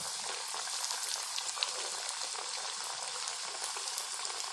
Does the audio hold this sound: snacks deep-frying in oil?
yes